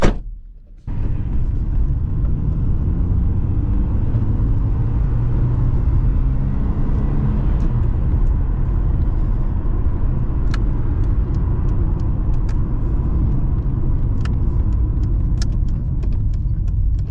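Mercedes 190E car running steadily for about seventeen seconds, a loud continuous low engine and road rumble with faint jangling clicks, after a brief quieter start.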